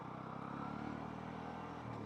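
A Honda CB 125 Hornet motorcycle rides over a large speed breaker without slowing, giving a steady, even engine drone mixed with wind rush and no distinct bump.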